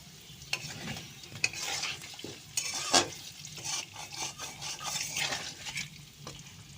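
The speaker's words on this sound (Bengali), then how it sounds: "একটু নুন দিয়ে দেব, একটুখানি হলুদ গুঁড়ো দিয়ে ভালো করে নেড়ে দেবো।" Potatoes frying in oil with salt and turmeric, stirred in a pan: soft sizzling under a series of scraping and clinking spatula strokes, close and moderately quiet, with no talk.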